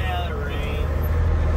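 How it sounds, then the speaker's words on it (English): A truck's brakes give a thin, high screech that slides and fades over the steady low rumble of a big rig's engine, heard from inside a nearby cab. "Whoa, you have some screechy brakes there."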